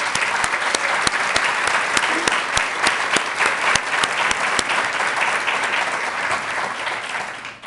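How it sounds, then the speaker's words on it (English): Sustained applause from an audience at a State Department Pride month event, dense steady clapping throughout, loud and close, fading slightly at the very end. "And I want to give them a hand of applause."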